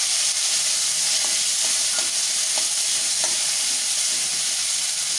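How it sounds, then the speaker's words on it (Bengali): Chopped tomatoes fry in hot oil over a tempering of asafoetida, a loud, steady sizzle close by, with a few light clicks of stirring and no voices. "আমি একটু টমেটোটাকে ভেজে নেবো কাঁচা স্মেলটা চলে যাওয়া পর্যন্ত"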